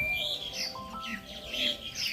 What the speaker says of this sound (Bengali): পাখিটা কি সুন্দর চেঁচাচ্ছে দেখুন